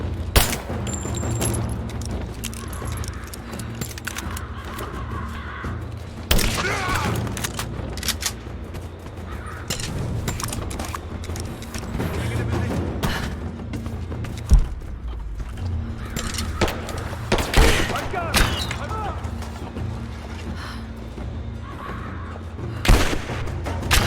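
Sustained gunfire rattles through a Rise of the Tomb Raider firefight, with bursts and sharp single cracks and booms standing out over a dense, continuous battle bed for the whole stretch.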